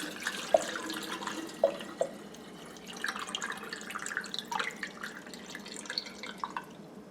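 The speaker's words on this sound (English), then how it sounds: "Then I can add water to this and continue rinsing" Water trickling and dripping as acorns are rinsed to leach out tannins while making acorn flour, with scattered close drips and splashes over a soft running-water background.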